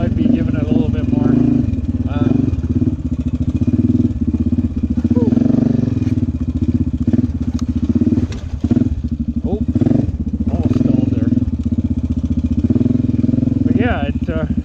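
A Honda Rincon ATV engine idles and crawls along a trail with a snorkel fitted, its low steady rumble loud and close throughout with occasional clunks and thuds as it moves, while a person talks over it.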